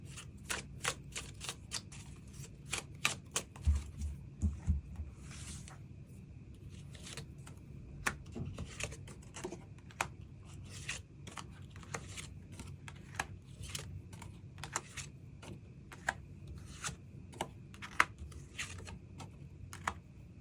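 Tarot cards being shuffled and laid out, a long run of soft crisp flicks and slaps, some in quick bursts and some spaced apart, quiet and close with no talking.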